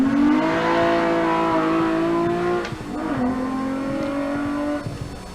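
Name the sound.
six-cylinder race car engine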